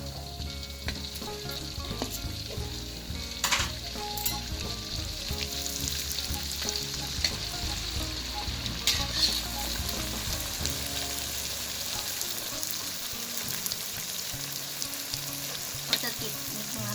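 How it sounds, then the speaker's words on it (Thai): Sun-dried Thai rice crackers (khao taen) deep-fry in hot oil over medium heat, a dense, continuous sizzle and crackle with occasional scraping stirs, close and steady throughout. "อันนี้ก็คือข้าวแตนที่เราตากแดดไว้นะคะ ประมาณ 2 วันนะคะ เราก็จะนำไปทอดค่ะ"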